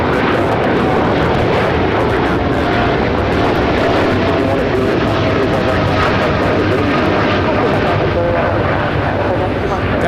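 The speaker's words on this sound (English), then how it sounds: "3249 taking off to Chicago on the 787-9 Dreamliner." An American Airlines Boeing 787-9 Dreamliner takes off at LAX with a loud, continuous, near engine roar that fills the whole stretch and never lets up.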